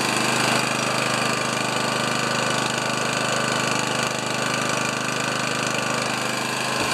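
A Honda HRA214 lawn mower engine runs with its manual throttle raised, a loud, close and unbroken mechanical drone that holds steady throughout, with no talk.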